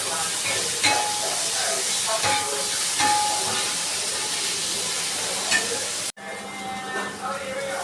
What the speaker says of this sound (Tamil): இப்போ வந்து கட் பண்ணி வச்சுருக்கா தக்காளி ஆட் பண்ணிக்கலாம்.